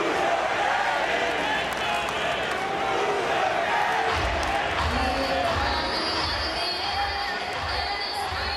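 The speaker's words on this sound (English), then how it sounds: "Here was the reaction by the Yankee Stadium crowd." A Yankee Stadium crowd during the 2009 World Series reacts to Pedro Martinez with a dense, continuous roar of cheering and shouting that swells in the latter half, mixed with boos and distant voices throughout.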